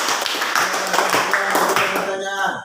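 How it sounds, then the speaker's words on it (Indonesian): Students in a classroom clap together, a brief burst of fairly close, loud clapping mixed with chatter and voices, trailing off near the end. "Ya, tepuk tangan."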